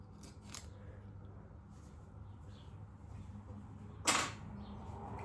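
A few faint, crisp snips of small scissors, with one sharper cut standing out in an otherwise quiet space.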